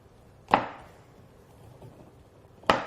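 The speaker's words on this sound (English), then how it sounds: "I'm shaving off my cacao butter so that it will melt more quickly." Two separate scraping strokes of a knife shaving a block of cacao butter, near and brief, about two seconds apart with quiet between them.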